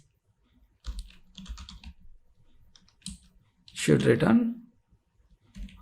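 Bursts of computer keyboard typing while writing test code, quick clustered key clicks in short runs separated by pauses, with a brief spoken phrase partway through.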